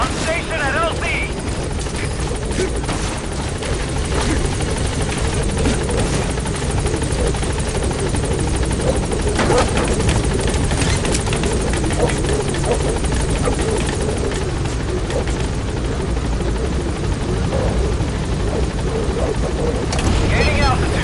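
Support helicopter in Metal Gear Solid V arriving at a landing zone, its loud steady rotor thrum and engine whine filling the scene continuously from start to finish, with game voices briefly heard over it.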